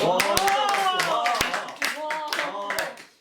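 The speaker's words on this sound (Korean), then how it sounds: "오 박수." A small audience after a poetry performance at a literary festival: a handful of loud, scattered claps in an uneven rhythm, with voices talking and exclaiming over them.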